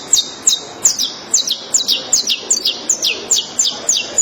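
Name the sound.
person whistling an imitation of the rufous-collared sparrow call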